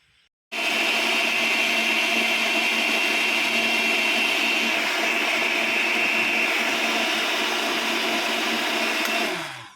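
A kitchen blender whirs loudly at high speed while making a mango shake with cream. It starts abruptly after a short pause, holds a steady motor whine for about nine seconds, then winds down at the end.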